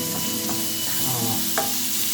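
Chicken sizzles in a pan with a little salt while being stirred, an even close frying hiss with soft scrapes and one sharper clink near the end.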